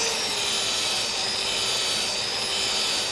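Fresh sandpaper pressed against a spinning turned wooden plate on a lathe, producing a steady, loud broadband hiss and whoosh that holds evenly throughout with no talk.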